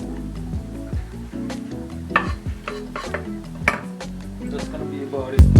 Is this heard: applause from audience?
no